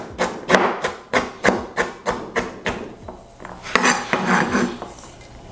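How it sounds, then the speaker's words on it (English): Rapid, steady knife chops through fresh ginger on a cutting board, a dozen or so sharp knocks, close and loud, with brief pauses between runs. "give that fresh ginger a quick chop so to help out the blender a little bit"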